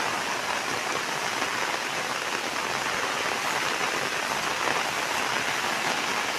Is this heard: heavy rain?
yes